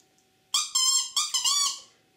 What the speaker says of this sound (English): And there's a good strong crowing sound there, very harsh, and that's what you're looking for in a good chanter reed.